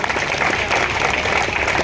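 Audience applause fills a ceremony hall honouring a family with a UPSC success, a thick, continuous wash of clapping with no break.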